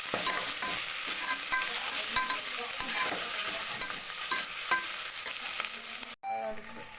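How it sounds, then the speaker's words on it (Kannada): Spices for ghee rice fry and get stirred in a pan, a loud steady sizzle broken by repeated clinking scrapes of a spoon, with a brief dropout near the end. "ಚೆನ್ನಾಗಿ ಫ್ರೈ ಮಾಡ್ಕೊತಾ ಇದ್ದೀನಿ"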